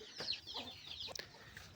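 Chickens kept in a store room of a rural Kenyan mud house cluck softly nearby in a few short, quiet bursts.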